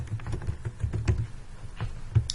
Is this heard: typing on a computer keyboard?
yes